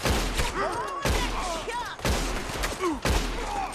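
Rapid gunfire in the Red Dead Redemption 2 Western game, four sharp bursts roughly a second apart, each ringing out with a short tail, while voices talk over the shots.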